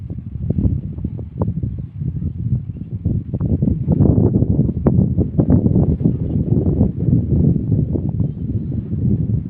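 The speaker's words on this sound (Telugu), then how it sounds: "గాలి కూడా విపరీతంగా ఉన్నది" Strong wind roars and buffets steadily in low, rumbling gusts over a sesame field during rain, with no voices.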